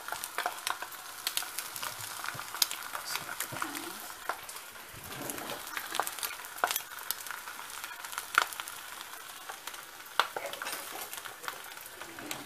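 Onions frying in a home kitchen pan, a steady low crackle and sizzle with scattered sharper pops and stirring clicks throughout, fairly close.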